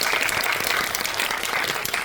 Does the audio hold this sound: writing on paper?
no